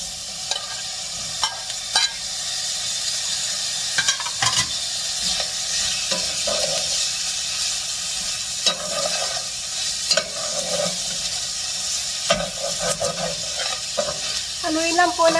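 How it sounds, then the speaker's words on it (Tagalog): Pork belly fries and sizzles in a pan while being stirred for Filipino igado, with a steady hiss broken by repeated scraping and clattering stirring strokes close by. "Nilagay po natin ang ating pork belly."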